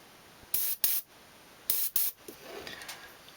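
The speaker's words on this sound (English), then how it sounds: "just kind of hold it up against the edge of the gill plate there and just kind of spray." An airbrush sprays paint onto a crankbait fishing lure at the edge of the gill plate, in two pairs of short, close, hissing bursts followed by a fainter, uneven trickle of spray.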